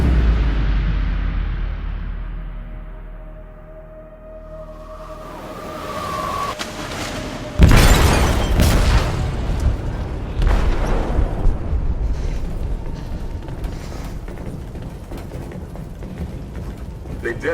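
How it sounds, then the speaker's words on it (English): An explosive charge detonates in a ship's hold in Detroit: Become Human: after a low, quieter stretch, one sudden loud blast hits, then a long, heavy rumble with crackling debris that fades slowly. "They detonated an explosive in the hold."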